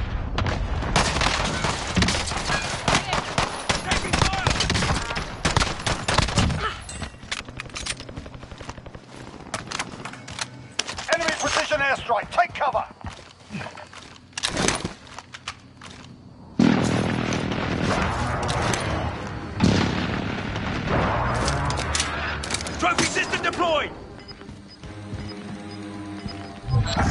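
Call of Duty battle gunfire: dense, loud bursts of automatic rifle and machine-gun fire with booming impacts, rattling almost without pause, close and intense, with only brief lulls between volleys.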